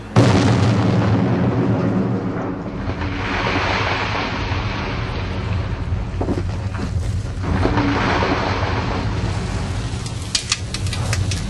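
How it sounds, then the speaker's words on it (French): A big outdoor firework blast booms and rumbles, with a heavy deep roar that rolls on and swells again before crackling bursts near the end. "Tu vas avoir une belle explosion."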